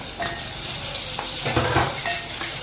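Chopped onion and green chilies sizzle in a hot pan with a steady crackling fry, and a spoon scrapes and clinks against the metal now and then, close up.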